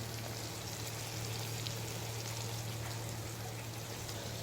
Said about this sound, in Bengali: একটু জল মিশিয়ে নিই